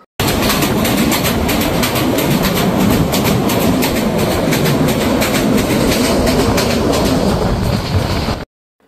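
Heard from aboard a Dhaka to Cox's Bazar train passing through Ghorashal railway station: a loud, continuous rumble and clatter of wheels on track that cuts off abruptly at the end.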